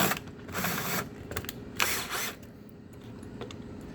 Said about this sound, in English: you have to put a screw in there